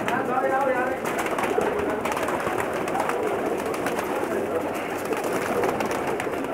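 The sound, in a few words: Teddy pigeons cooing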